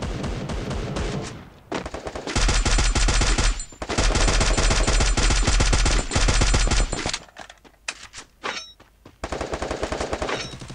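Loud rapid automatic gunfire from the Free Fire battle royale game, long sustained bursts broken by short pauses and a quieter stretch of scattered single shots before firing resumes.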